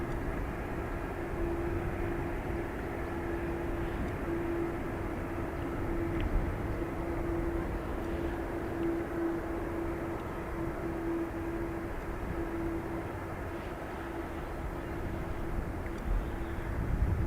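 A KLM Embraer E195-E2 sits on runway 28 right at Dublin Airport, its jet engines producing a steady, loud whine and roar that holds evenly throughout.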